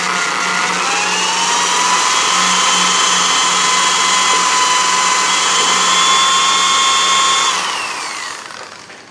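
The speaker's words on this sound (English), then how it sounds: "Drill a little bit, put a little oil on it." A power drill boring a hole in metal fence hardware lubricated with oil, a steady high whine held for about eight seconds that slowly winds down at the end, with no talking.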